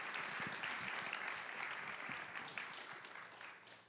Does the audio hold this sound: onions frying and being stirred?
no